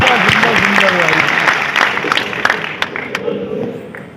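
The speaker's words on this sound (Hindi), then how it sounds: "एक बार आपकी तालियां उठे" An audience at a Hindi poetry gathering marking Independence Day applauds, loud clapping at first that gradually thins into scattered claps, with a voice speaking briefly under it.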